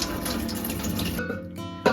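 Soaking water poured off Kodo millet, a steady splashing stream that runs loud and continuous, then thins and stops with a final clunk.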